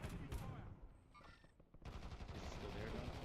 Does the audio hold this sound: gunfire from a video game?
yes